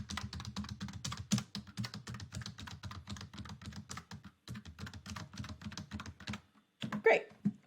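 Rapid keystrokes clatter on a computer keyboard as someone types the alphabet in QWERTY order, a steady close rhythm of clicks with brief pauses and a few louder taps near the end.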